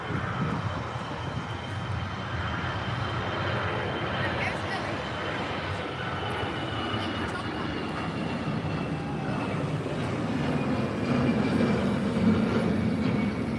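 An EasyJet airliner at Manchester Airport gives off a steady, distant jet engine roar that swells slightly toward the end, with people talking nearby throughout.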